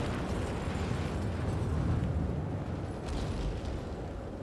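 Distant wartime explosion in Hearts of Iron IV along a front line in England, a low, muffled rumbling roar that stays fairly quiet and steady without a sharp initial crack.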